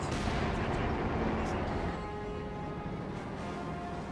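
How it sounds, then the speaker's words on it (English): Incendiary artillery barrage in the Company of Heroes 2 strategy game: a dense, continuous roar of shelling and crackling fire, loud for the first two seconds then easing to a steady rumble under game noise. "Incendiary artillery barrage being brought in somewhere, right here."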